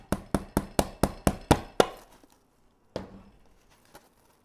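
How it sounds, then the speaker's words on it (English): A hammer strikes into a hydrangea wreath for a patriotic screen door with eight sharp, evenly spaced knocks in quick succession, then one more after a pause, close and clear. "Let me hammer this one in."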